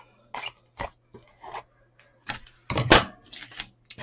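Scissors snip through the cardboard of a handmade pencil box in a series of short, crisp cuts, with the closest and loudest cut coming near the end.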